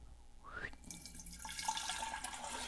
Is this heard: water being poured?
yes